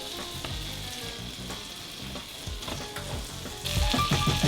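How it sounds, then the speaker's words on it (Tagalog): French bread toasting in butter in a pan crackles and sizzles steadily up close, with repeated stirring and scraping knocks that grow louder toward the end. "Lulutuin ko lang to sa butter para mas masarap."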